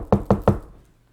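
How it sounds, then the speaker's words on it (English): Three quick, evenly spaced knocks on wood ring out loud and close, each with a short hollow decay, followed by quiet. "knock on wood."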